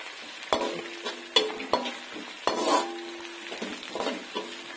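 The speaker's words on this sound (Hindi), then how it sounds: "अभी इसको भूनने देते हैं अच्छी तरह से" Crushed ginger and garlic with masala frying in a pan while a spoon stirs and scrapes, producing steady sizzling with sharp clinks against the metal, close and without speech.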